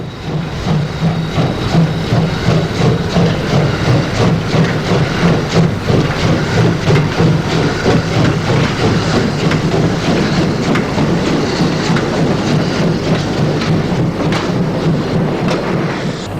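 A DR class 01 Pacific steam locomotive hauls a Berlin-bound express through East Germany, a steady loud rumble with continuous wheel clatter and hiss of steam over the whole stretch.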